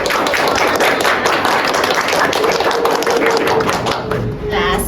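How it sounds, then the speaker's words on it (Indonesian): A small group claps together in a campus podcast studio, a busy crackle of hand claps overlapped by voices talking and laughing, loud and close throughout. "Tepuk tangan dulu."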